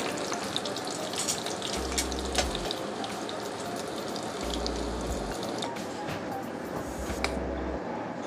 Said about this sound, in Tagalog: Kumukulo-kulo yung ating sinigang